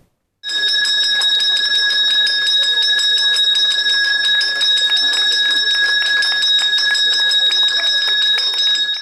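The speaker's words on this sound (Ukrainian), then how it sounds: "Цього дзвоника з нетерпінням чекали школярі, батьки та вчителі" An electric school bell at a school in Kolomyia, Ukraine, rings loudly and continuously, a steady metallic trill that starts abruptly and carries on without pause.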